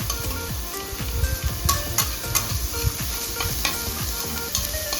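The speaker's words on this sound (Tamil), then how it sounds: "இது நல்லா கிளறி விட்டுக்கோங்க" Mushroom masala stirred in a frying pan: a steady sizzle with repeated scraping strokes of a spoon, close and fairly loud, with no talking.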